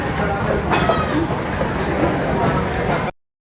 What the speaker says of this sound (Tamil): இந்த மாதிரி நிறையா கூட்ஸ் ட்ரெயின்ஸ் பார்க்க முடியும் நம்ம மட்கான் ஸ்டேஷனில் வெயிட் பண்ணிகிட்டு இருக்கும்போது